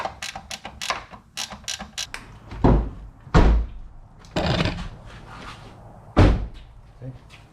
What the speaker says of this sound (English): we're going to go ahead and slap this door on, put it on the hinges